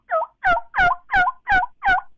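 Six evenly spaced yelps imitating a turkey's lost call, loud and close, each a short two-note cluck-yelp with a steady rhythm, heard alone without any talk.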